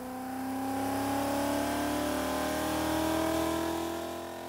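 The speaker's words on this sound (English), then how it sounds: "we put the Mustang on the chassis dyno at Boost Addicts in Gallatin," A Ford Mustang with an Edelbrock E-Force supercharger runs on a chassis dyno at a shop in Gallatin, Tennessee, its engine climbing in a steady, sustained rev with a whining tone that swells and then eases slightly, close and alone.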